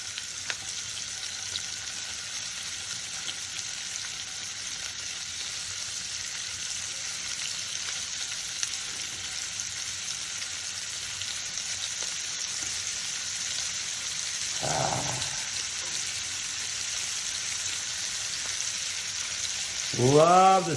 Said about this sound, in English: That's the sound of searing.